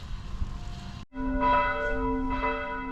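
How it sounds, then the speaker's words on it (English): Church bells ring out across a riverside area along a Bratislava-to-Budapest cycling route, their overlapping tolling strokes swelling in repeated waves, moderately loud with a faint rumble of open air beneath. "You can hear the bells going in the distance."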